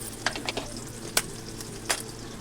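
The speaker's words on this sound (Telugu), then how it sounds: "ఉల్లిగడ్డ అయితే మనకు దూరగా వేగింది. ఇప్పుడు అల్లం పేస్ట్" Onion with ginger paste frying in a pan for a mango fish curry, giving a quiet steady sizzle with a few sharp clinks or stirring scrapes spaced through it.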